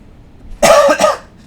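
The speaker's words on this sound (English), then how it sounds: "Honestly, don't think too much about the cough." A single loud, close cough breaks from a man in a quiet room, a harsh double burst lasting under a second and followed by near-silence.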